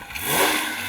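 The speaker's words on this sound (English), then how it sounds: "The way that revs up is just lovely." A Porsche 911 S/T, a lightweight sports car, revs its engine hard. The note swells to a peak mid-clip, then holds a steady roar, close and loud, with no talking.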